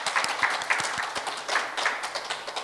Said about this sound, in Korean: 감사의 박수를 올려드리겠습니다.